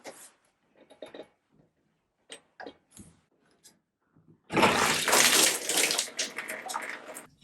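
Water rushes out of an opened Delta shower valve, a loud splashing drain that starts abruptly after several seconds of quiet clicks and handling noises, then tapers slightly toward the end.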